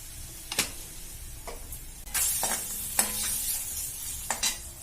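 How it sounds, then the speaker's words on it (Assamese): Cumin and coriander sizzle in hot oil while being stirred for a simple pasta dish, a close steady hiss broken by sharp scraping taps of the spoon against the pan, with no voices. "মছলা দিছো জিৰা ধনিয়া অকণমান দি দিম"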